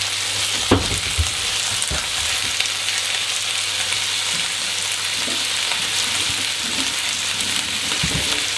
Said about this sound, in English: And we're going to wet the paper towel down.